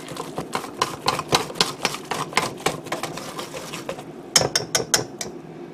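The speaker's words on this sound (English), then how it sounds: "And now we're just going to start mixing in the flour. And we're just going to whisk it till it's a smooth batter." Whisk beating a batter of yeast, milk, water and flour in a bowl, a rapid run of close clicking and tapping strokes with a short pause before a final few strokes.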